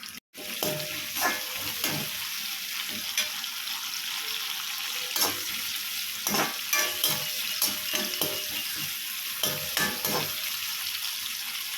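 Garlic and curry leaves fry in a pan of hot oil for shrimp fry, giving a steady close-up sizzle with intermittent crackles and light stirring scrapes throughout.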